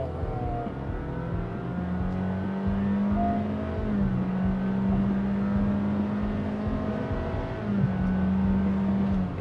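A compact SUV engine strains under acceleration through paddle-shifted gears, a steady close drone climbing in pitch with distinct steps where the gears change, no voices over it.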